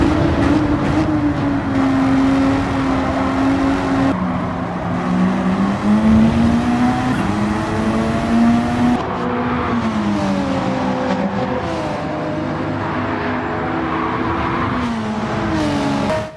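Race car in a Gran Turismo 7 daily race on a European circuit: a loud, continuous engine whine that climbs and drops through gear changes, with faint tire squeal in places and no talk.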